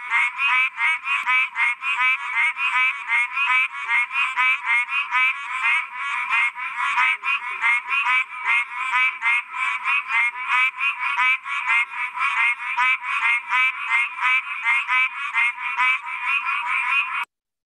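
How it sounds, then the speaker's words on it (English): A Pine Barrens tree frog calls in the Pinelands in spring, giving a steady run of rapid, nasal honking notes. The calls repeat without a break for the whole stretch, loud and close, with no voices. "This guy right here is a Pine Barrens tree frog calling."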